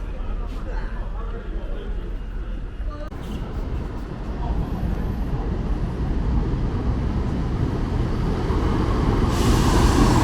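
A train rumbles past on a track running through the middle of a town, its low heavy roar growing louder and closer over several seconds, with a voice heard faintly at the start.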